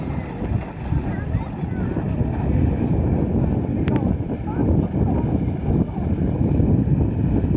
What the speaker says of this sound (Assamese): নদী পাৰ হৈ যাই আছে